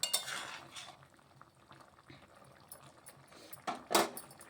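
Winter vegetable curry with poppy seed simmering in a pot, with soft bubbling under close metal utensil clinks and scrapes, a louder clatter near the end.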